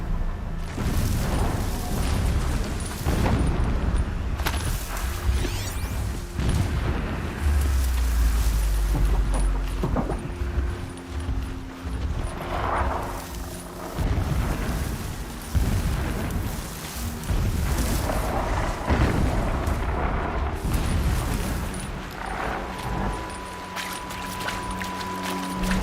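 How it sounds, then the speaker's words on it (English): Distant explosions rumble in Horizon Zero Dawn, deep irregular booms rolling under a dense, constant wash of ambient game sound, with no voice. "Explosions in the distance."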